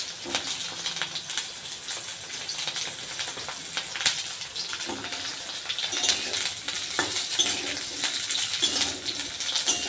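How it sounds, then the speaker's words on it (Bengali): Hot oil sizzles and crackles steadily as vegetable stalks fry in a pan, with occasional stirring scrapes and no talking. "সয়না ডাঁটাগুলো আমি ভেজে নিচ্ছি।"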